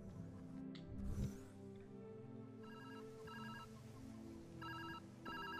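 A phone in the video game Viewfinder rings in repeated short trilling bursts, fairly faint, over a soft ambient music bed after a brief rustle.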